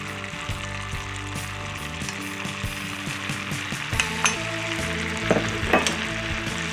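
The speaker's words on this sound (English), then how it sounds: "I'm going to go ahead now and start adding my brown sugar." Brown sugar stirred into melted butter in a pan, a steady close sizzle with scraping and clinking of a utensil against the pan, a few louder scrapes near the end, no talking.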